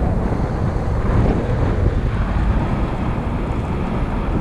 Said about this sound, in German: Der Wind ist zwar immer noch schwach